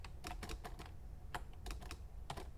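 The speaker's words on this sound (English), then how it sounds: "People have commented that my keyboard is very loud." A loud computer keyboard clatters under quick, irregular typing, short bursts of sharp clicky keystrokes with brief pauses, close and clear over a low background rumble, with no voices.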